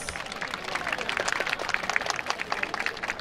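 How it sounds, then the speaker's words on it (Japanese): An audience claps for a dance team at the Yatose Akita festival, a brief spell of light, scattered applause at moderate distance with faint crowd murmur. "あ、拍手ありがとうございます。"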